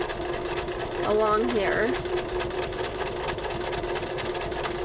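Brother LS-2020 sewing machine running slowly while stitching a buttonhole, a steady close mechanical whir and rapid needle ticking that continue throughout under a person talking.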